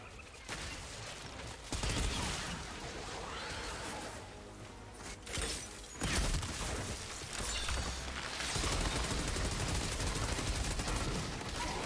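Gunfire in a video game with exploding spiders: rapid bursts of shots roll on through the whole stretch, loud and dense, fading briefly before picking up again.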